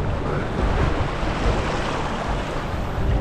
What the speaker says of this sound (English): A little low in the water almost to call that a rapid, but I also call it a class one.